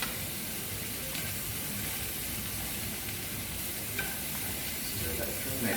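Cauliflower egg fried rice sizzling steadily in a hot pan as it is stirred, with a constant frying hiss and faint scraping, no voice over it.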